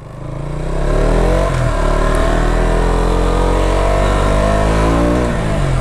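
A BS3 Bajaj Pulsar RC 200 engine is revved close by. It climbs quickly to a loud, sustained roar with rising and falling pitch across several throttle blips, and no one speaks.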